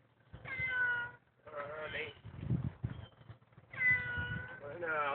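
A cat, found in a rescue setting, meows several times in drawn-out, plaintive calls with short pauses between them, close and clear.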